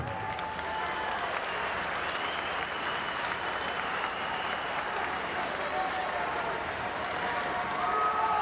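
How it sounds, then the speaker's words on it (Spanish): A crowd at a public accountability event for the Ecuadorian community in Murcia applauds the president of Ecuador, thick continuous clapping that holds steady for over eight seconds with murmuring voices beneath. "Fuerte el aplauso, por favor."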